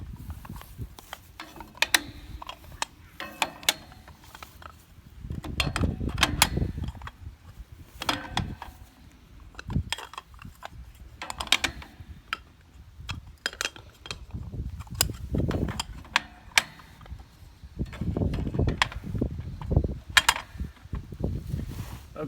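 Clay targets being loaded into an Atlas AT-250 trap thrower: a close series of irregular clacks, scrapes and hollow rattles as the discs are stacked and shifted into the machine, with brief pauses between bursts.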